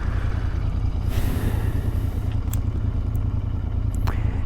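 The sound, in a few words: Royal Enfield motorcycle riding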